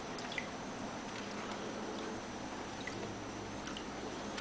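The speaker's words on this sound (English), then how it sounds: "Here I'm panning into a tub, so I'm not going to lose anything." Water washing gravel in a gold pan over a tub, a faint steady swishing and trickling with occasional small drips and splashes, no speech.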